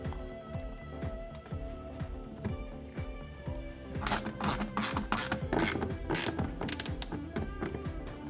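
Screws being driven into the brake vacuum pump of a 2017 BMW i3 with a ratcheting hand tool, rapid clicking pawl strokes repeating close by, growing louder and sharper in bursts during the second half.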